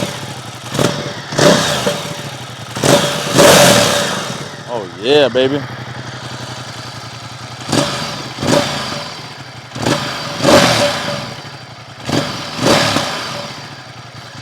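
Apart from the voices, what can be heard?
Ducati XDiavel motorcycle engine revving, stock exhaust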